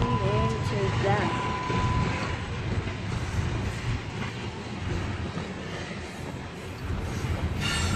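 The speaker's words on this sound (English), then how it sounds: "That train keeps going over there" A freight train rolls steadily past a station, a continuous low rumble with rattling wagons and faint clickety-clack, while people chat nearby.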